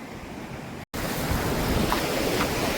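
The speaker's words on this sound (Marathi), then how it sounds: "अगदी समुद्राच्या बाजूने चाललोय आपण" Sea waves break and wash along a hidden rocky stretch of the Konkan coast, a loud, close, continuous surf roar mixed with wind buffeting the microphone, briefly cut off before resuming.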